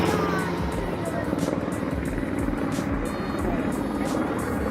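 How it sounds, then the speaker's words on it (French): Helicopters hover overhead at a Tour de France 2020 roadside, a constant loud rotor thrum with choppy blade pulses beneath nearby spectators talking. "on a les hélicos les amis au-dessus"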